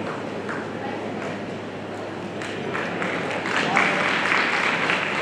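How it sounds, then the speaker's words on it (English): A school annual function audience claps continuously, a dense, even wash of applause that swells slightly louder toward the end. "Give them a big round, the clapping should not stop."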